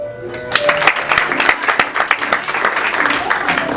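Theater audience clapping at a holiday improv and variety show, a mixed patter of hands from a moderate-sized crowd with talk running over it.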